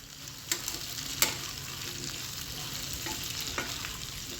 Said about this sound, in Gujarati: આપણે બટેટાને 1 થી 2 મિનિટના અંતરે આવી રીતે હલાવતા રહેવાનું છે